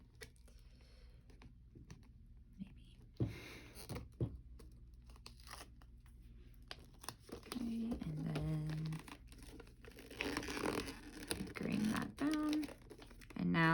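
Tape is handled while wrapping a gift in Japanese pleated style, with close tearing, crinkling and sticky peeling sounds amid paper rustles, growing busier toward the end, and faint speech in places.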